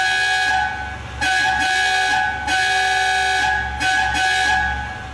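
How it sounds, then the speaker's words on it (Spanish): Several loud blasts of an old-fashioned Italian car horn on a modern Ferrari, a bright buzzing toot repeated in bursts with short gaps between. "Empecemos por el claxon, que es un claxon italiano antiguo y ridículo."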